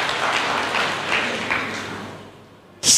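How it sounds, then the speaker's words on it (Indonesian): Applause during a church service, a dense broadband wash of clapping that swells and fades over several seconds, ending in a short loud burst. "Berikan tepuk tangan yang meriah buat Tuhan."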